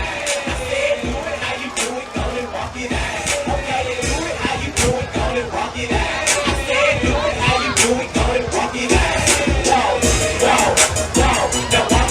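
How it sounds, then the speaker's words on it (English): A stadium crowd at a high school football game cheers and claps for the dance teams, a dense, loud roar of applause with sharp individual claps throughout, steady and sustained. "Let's give them a round of applause."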